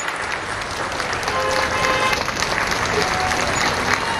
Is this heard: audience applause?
yes